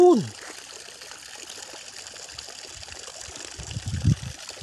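Clear water trickles steadily into a fish pond on a small self-sufficient farm, a continuous soft flow with a few louder gurgling splashes toward the end.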